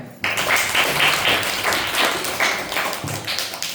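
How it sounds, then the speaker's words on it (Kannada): Children in a classroom break into a burst of clapping after a sudden start, a dense patter of hand claps that rises and dips with some louder claps standing out, close by. "ವೆರಿ ಗುಡ್ ಚಪ್ಪಾಳೆ"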